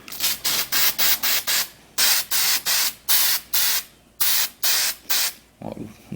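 Short bursts of spray gasket sealant hiss from a can onto a Briggs & Stratton L-head engine part, about a dozen close, loud, evenly paced squirts with brief gaps, ending in a faint clatter.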